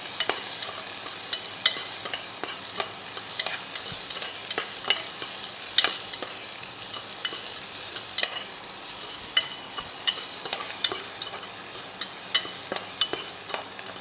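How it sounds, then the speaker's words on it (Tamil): Garlic cloves sautéing in hot oil for paruppu kuzhambu, a steady close sizzle with frequent sharp clicks and scrapes of stirring throughout. "கூடவே பூண்டு பல் போட்டுட்டு வதங்கணுங்க."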